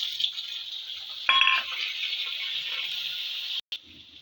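Shrimp dropped into hot oil with chopped onion in a pan, a brief clatter of the ingredients hitting the pan followed by a steady, moderate sizzle, with a short break near the end.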